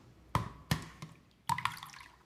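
Water drains from soaked lentils for adai batter, a few quiet, separate drips and splashes landing close by, with short pauses between them.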